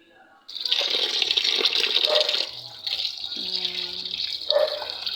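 Oregano leaves rinsed under a running tap, a steady loud splash and trickle of water into a sink that carries on through the clip with a short drop midway.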